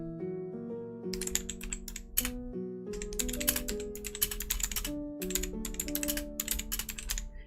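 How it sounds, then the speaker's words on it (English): Typing on a computer keyboard, filmed with a hand camera during a cozy crochet and chat session: steady, fast clusters of close clicks in bursts with brief pauses, over soft background music. "I don't have proper typing position. I also look when I type."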